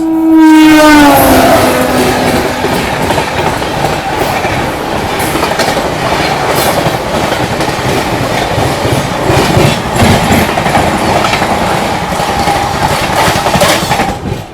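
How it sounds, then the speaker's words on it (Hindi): The Ajmer Sealdah Superfast Express roars past an oncoming train, opening with a falling horn and then a loud, continuous rush of wheels and rattling carriages, heard from aboard at night. "सामने से आ रही है अजमेर शालदा सुपरफास्ट एक्सप्रेस।"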